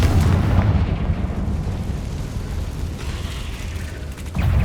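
Confringo fire spell blasting in the Hogwarts Legacy video game: a continuous loud, rumbling explosive roar that holds steady for several seconds, then surges again with a fresh burst at the end, with no talking.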